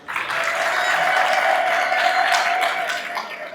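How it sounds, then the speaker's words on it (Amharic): An audience at a family wedding-relations ceremony in Adama breaks into sustained, loud applause that builds quickly and continues steadily, with a few voices mixed into the clapping. "አንድ ሞራል፣ አንድ ጭብጨባ።"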